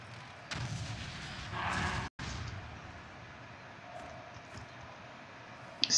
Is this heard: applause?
no